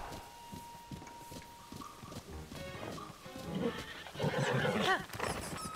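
Horse in the video game Zelda: Tears of the Kingdom, with a soft run of clip-clopping hooves and then a whinny near the end, all heard fairly faintly.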